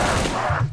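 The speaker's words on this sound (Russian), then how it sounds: "Дробовик! Фальшивка, а не дробовик!" Shotgun blasts in the Roblox zombie shooter Project Lazarus: a dense, loud burst of close gunfire with overlapping booms filling the whole short moment, and no voices.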